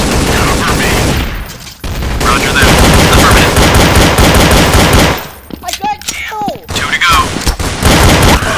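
Heavy, loud gunfire in a Counter-Strike hostage round, long continuous automatic bursts with a shotgun in the mix, broken by a short lull of scattered shots and clatter before the firing resumes.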